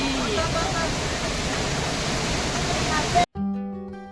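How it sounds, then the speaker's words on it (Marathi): Devkund waterfall near Bhira village, Raigad, in the Sahyadri hills, roars in a loud, constant rush of water, then cuts off abruptly into quiet music near the end. "आपण पोचतो मित्रांनो देवकुंड धबधब्याच्या इथे बघू शकता तुम्ही पूर्ण असा प्रवाह"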